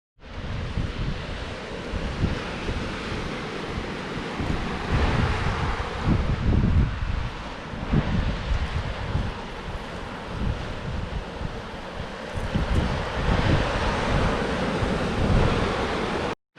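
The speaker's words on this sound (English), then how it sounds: "We've got the beach just in front of us." Steady roar of surf and strong wind on an island beach at a campsite, broadband wash continuous throughout with rustling gusts buffeting the microphone, no voices.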